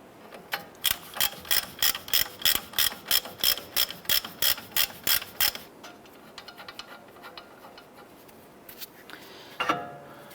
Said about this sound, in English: Let's go ahead and remove this upper nut here.